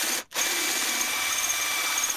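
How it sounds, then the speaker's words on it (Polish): A power drill bit grinds against the plastic headlamp mounting flange of a Mercedes W211, a steady close whirring scrape that cuts out briefly near the start and then runs on evenly. "ten główny element montażowy ścieramy właśnie tym wiertłem"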